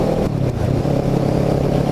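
A Kawasaki Ninja motorcycle engine drones steadily while riding through Cumberland County, a loud, close, continuous rumble with slight rises in revs and wind noise, no talking.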